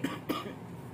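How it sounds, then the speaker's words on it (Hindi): Two quick, soft coughs close to the microphone, one right after the other. "बार बार खांसी आ रही है पिछले पंद्रह बीस मिनट से"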